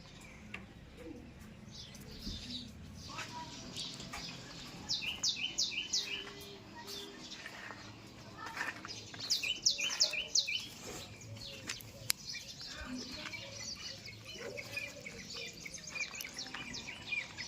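Sparrows chirp in quick bright bursts and pigeons coo softly in a quiet village courtyard, the calls coming and going at moderate distance with no talking.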